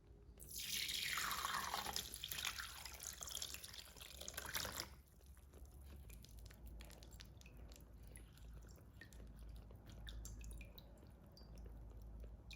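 Homemade rose water poured through a strainer, splashing and trickling loudly for a few seconds, then fading to quiet drips and faint dribbling.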